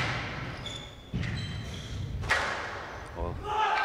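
A squash ball thuds once against a player's body partway through a rally at a junior world championship match, a dull close hit under commentary, with squeaking shoes and other ball strikes nearby.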